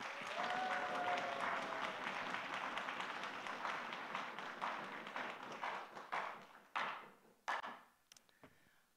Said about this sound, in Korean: 우리 마음을 열고 큰 박수와 환호와 발구름으로 환영하겠습니다